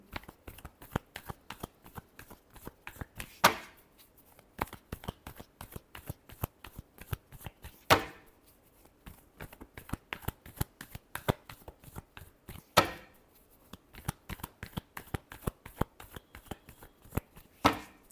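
Tarot cards shuffled by hand over about eighteen seconds, a dense run of crisp riffling flicks with a few louder bridge-like snaps, close and alone with no talking.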